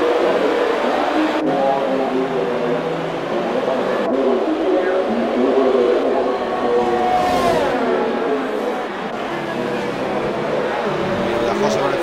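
Race cars in the F1 2018 video game during Spanish Grand Prix qualifying, a steady loud engine drone with rising and falling pitch, running under continuous Spanish commentary.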